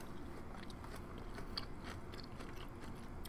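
Close, quiet chewing and biting of Korean corn cheese with pesto, soft crunchy and sticky mouth sounds continuing steadily with no talking.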